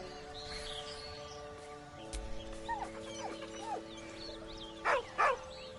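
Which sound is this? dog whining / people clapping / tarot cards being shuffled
dog whining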